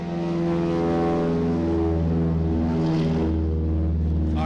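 A C-53 paratrooper transport aircraft taking off at an air show, its piston engines and propellers droning loud and steady throughout, with a rising roar as power builds and no talk.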